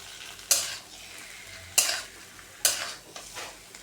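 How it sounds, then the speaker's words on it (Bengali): Dum aloo being stirred with garam masala in a pan: three distinct scraping stir strokes over a soft constant sizzle, spaced about a second apart, close and clear with no talking. "দিয়ে তাকে ভালো করে নাড়াচাড়া করে মিশিয়ে নেব"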